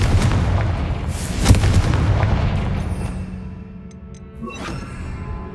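A Confringo spell blast in the video game Hogwarts Legacy: a loud booming burst with a sharp crack, followed by a rumbling tail that fades under steady game ambience.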